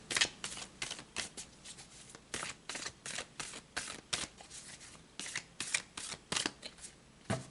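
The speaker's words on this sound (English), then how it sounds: "we're going to pull 3 tarot cards" Tarot cards are shuffled by hand in a steady run of crisp riffling bursts, roughly two per second, close and fairly loud with no talking over them.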